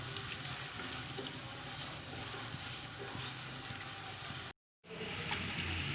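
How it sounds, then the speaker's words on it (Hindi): Onions frying in a pan on a medium flame for matar pulao, a steady, dense close sizzle that runs continuously, broken only by a brief silent gap near the end. "प्याज को हम गोल्डन ब्राउन कलर देंगे, मीडियम फ्लेम रखेंगे नीचे"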